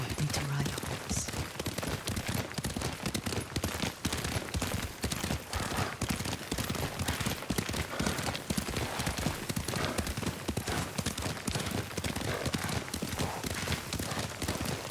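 Horse hooves clip-clop in a steady galloping rhythm as a rider travels in the video game Ghost of Tsushima, continuous and fairly loud, with voices talking over it at times.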